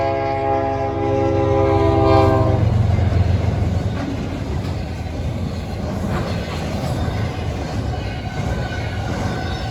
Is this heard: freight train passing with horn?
yes